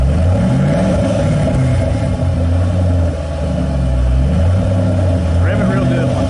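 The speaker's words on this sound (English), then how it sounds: "Rev it real good one time." A car fitted with a Flowmaster dual exhaust, a low steady engine rumble rising into a rev and settling back, close by, with people talking over it.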